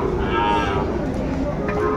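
A cow moos loudly and close by at a busy cattle market, a sustained low bellow over the crowd's general murmur.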